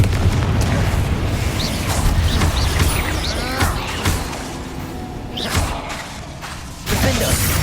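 Spell explosions from the Confringo fire spell in Hogwarts Legacy, heavy booming bursts and crashes layered over a dense, continuous battle din, with sharp hits recurring every second or two.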